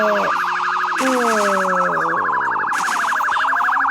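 Police siren in the XD Drive driving video game, a loud continuous wailing tone that rises and falls rapidly and steadily throughout, with other game engine and effect sounds layered beneath it.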